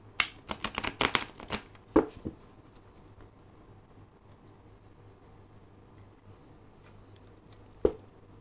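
Tarot cards shuffled and drawn by hand, a quick run of crisp riffling slaps and flicks close by, then a long quiet stretch before a single sharp card snap near the end.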